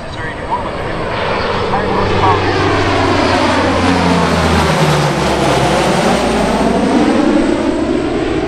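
A Lockheed C-130J Hercules, the conventional J model, flies a capabilities demo at the 2023 Cleveland Airshow, its loud propeller drone swelling and shifting in pitch as it passes nearby, with announcer talk over it.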